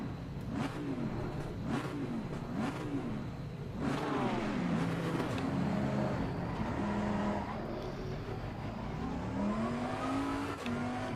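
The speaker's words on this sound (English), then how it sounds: "Let's hear that engine roar again." A Bentley Continental GT3 race car engine in Assetto Corsa Competizione at Zandvoort revs up and down repeatedly, then roars steadily and climbs in pitch as it accelerates, heard fairly faintly.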